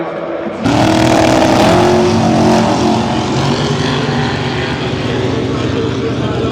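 Race cars on a motorsport track roar loudly from close by, the engine noise rising sharply after a quiet start and then holding a steady, strong drone with a slowly shifting engine pitch.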